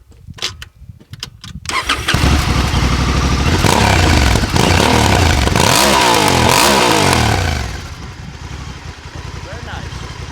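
A motorcycle engine cranks and catches, then revs up and down loudly several times before settling into a rough idle.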